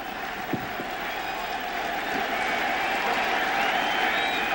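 A big baseball stadium crowd at a Mets vs. Yankees game cheers and applauds in a continuous, loud roar, with voices blending into a dense wall of sound and a few louder claps.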